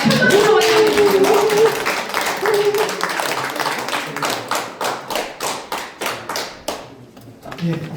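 Hands clap rhythmically over music at first, then settle into a slower, even series of distinct claps welcoming a speaker, fading out near the end.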